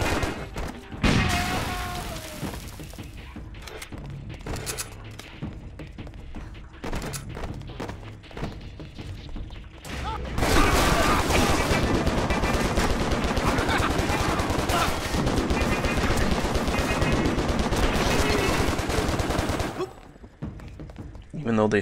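Rapid gunfire from a shootout in the video game Stranglehold, bursts of shots and thuds running under a voice, growing denser and louder in the second half before dropping off near the end.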